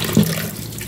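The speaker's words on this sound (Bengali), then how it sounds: "ডিমগুলো ভালো করে ধুয়ে নেব, নোংরা থাকে তো গায়ে, তাই জন্য।" Eggs and potatoes being washed under running water at a sink, a brief burst of splashing tap water close by, with no talk.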